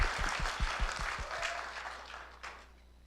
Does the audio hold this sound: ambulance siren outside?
no